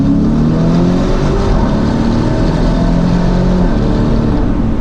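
A Lamborghini Urus 4x4 engine revving loudly and continuously up close, a dense deep roar with rising and falling tonal lines.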